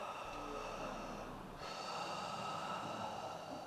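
A person imitates breathing through a congested head cold, with a long snorting inhale through a blocked nose, a brief pause, then another rough, nasal breath, close and alone.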